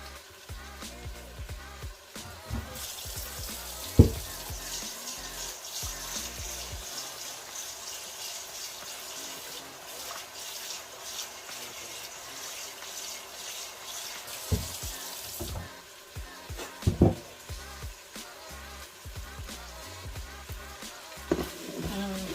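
Water pours into a Ninja Foodi pot over oxtails, about two cups added to cover the meat, a steady broadband gush running for several seconds with a few soft knocks and clinks around it.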